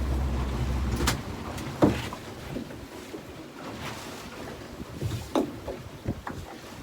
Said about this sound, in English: I was getting to cut the engine short before we get there